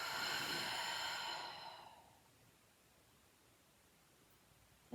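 A deep, slow exhale during a yoga breathing exercise, a soft breathy rush lasting about two seconds before fading into near silence.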